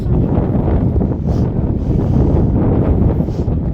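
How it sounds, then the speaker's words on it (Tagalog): Strong wind on the Castlepoint coast in New Zealand, a loud, continuous gusting roar buffeting the microphone close up, with no talking. "Hindi niya kaya yung ganitong hangin, malakas."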